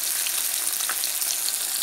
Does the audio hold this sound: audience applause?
no